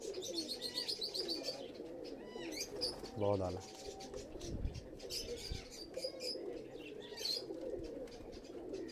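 Pigeons of a fancy breed coo and rumble amid a busy loft, with chirps, wing flaps and someone talking over a steady bird chorus.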